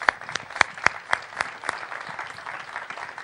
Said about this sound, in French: C'est vous que j'applaudis.